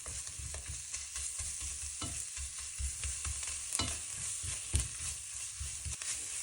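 Coriander powder being stirred in a frying pan for South Indian chicken curry, repeated scraping and soft thuds of a spoon over a gentle sizzle, close and steady with no talk.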